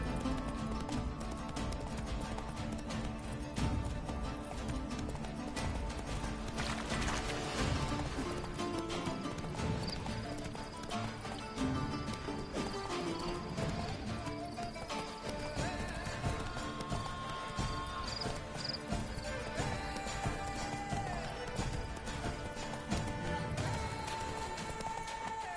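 Roach, Geralt's horse in The Witcher 3: Blood and Wine, gallops continuously, with fast rhythmic hoofbeats over a busy in-game soundscape of ambience and music, steady throughout.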